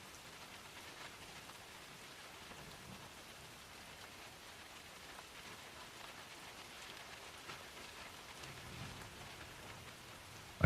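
Soft, even rain ambience with a constant gentle patter of drops, fairly quiet and unbroken, with no voices.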